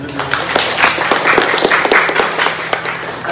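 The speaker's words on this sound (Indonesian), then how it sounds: "Boleh kita beri tepuk tangan dulu." Audience applause at an Indonesian university lecture session on Pancasila, a steady dense patter of many hands filling the room throughout, fairly loud, with no talk over it.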